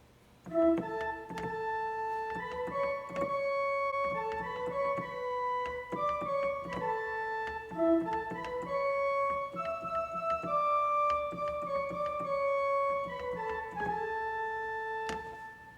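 A slow hymn melody played alone on a keyboard instrument, sustained chords moving steadily through a phrase with a faint background hum.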